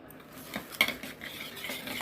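A spoon stirring omelette batter of egg with onion, green chili and spice powder in a bowl, brief close scraping and clinking strokes.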